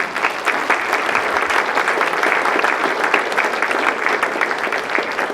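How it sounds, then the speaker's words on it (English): Live-event audience at a rodeo-style showdown breaking into sustained, dense applause, steady and fairly loud throughout with a broad crowd wash and no talk on top. "Big round of applause for everyone in the Black Hats."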